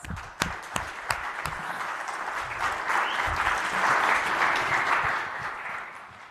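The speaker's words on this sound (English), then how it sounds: "Please give him a big round of applause." An audience applauds an invited speaker at a corporate talk. A few sharp, separate claps open the round, then it swells into a full, steady ovation that fades slightly toward the end.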